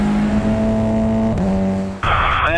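TCR touring race cars screaming into a corner at the Slovakia Ring, a loud sustained engine whine that dips as one car downshifts, then a higher-pitched car bursts in close with tyre squeal.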